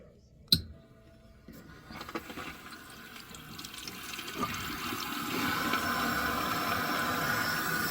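A sharp click, then rushing water builds and settles into a steady hiss as a toilet tank fills nearby through a newly fitted fill valve.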